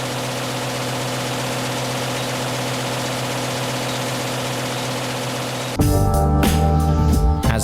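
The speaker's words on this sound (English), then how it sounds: "The presses run at high speed." Newspaper printing presses running at high speed, a loud steady mechanical drone with strong low tones that abruptly shifts to a harsher, rattling roar near the end, with no voices.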